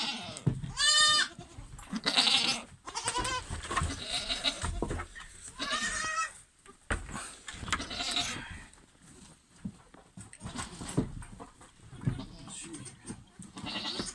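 Goats bleat several times in a farmyard among sheep and lambs at feeding, loud wavering calls close by, interspersed with someone talking and general pen noise.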